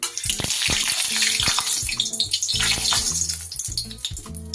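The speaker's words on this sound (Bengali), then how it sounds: "খুন্তির মধ্যে মনে হয় একটু জল ছিল, ওই জন্য আওয়াজ হলো তেলে।" Very hot mustard oil spatters and crackles loudly in a pan when a spatula with a little water on it touches it, while mullet fish curry is being cooked; a dense hiss is broken by sharp popping bursts.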